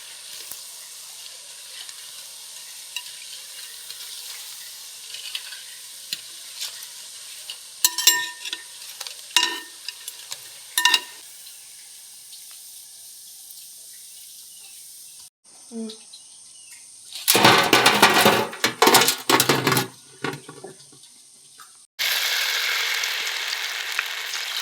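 Sukrunde sweets frying in oil for a temple offering, a quiet background bubbling with a few sharp clinks, then a loud burst of sizzling and stirring, and finally a steady hiss near the end.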